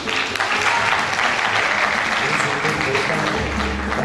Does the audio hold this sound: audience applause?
yes